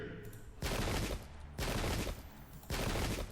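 Cannon and musket volleys in the Pike and Shot game, set in the American Revolutionary War, crash out in three loud broad bursts, each sustained for about a second, separated by quieter gaps.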